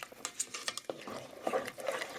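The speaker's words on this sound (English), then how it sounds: "Stir it up real good." A spoon stirs water into dry cream soup mix in a canning jar, giving soft scraping clinks and light sloshing taps in an irregular rhythm, close and quiet.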